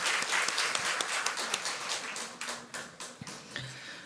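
Group applause from a church congregation during a Sunday service, with scattered individual claps standing out as the clapping thins and trails off toward the end.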